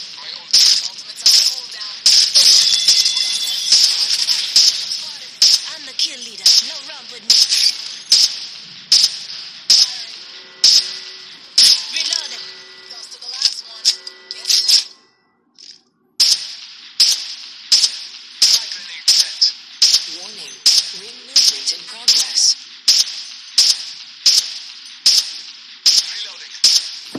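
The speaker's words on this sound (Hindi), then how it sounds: "जिस टाइम आप गोली चलाएंगे उसी टाइम बिल्कुल आपको कानों में सुनाई देगी" Gunfire from the video game Apex Legends played on a mobile phone: rapid bursts of sharp shots and repeated single cracks in a steady rhythm, loud and close, with a brief pause midway.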